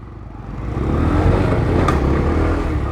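A Honda CBR 300 motorcycle engine drones steadily while being ridden, its loud, close engine note swelling about a second in and then holding at a higher, sustained level with no talking.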